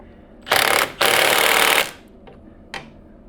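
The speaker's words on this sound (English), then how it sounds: "set your impact driver to the correct torque setting" A cordless impact driver rattles as it tightens the variator nut on a Royal Alloy GP350 scooter, giving two loud, close bursts followed by a couple of short, fainter taps.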